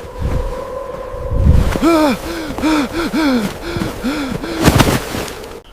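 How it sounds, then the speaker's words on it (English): Heavy, rhythmic breathing, a run of short strained gasps and panting breaths, close and loud over faint background noise. "Heavy breathing intensifies as thorns scratch the skin."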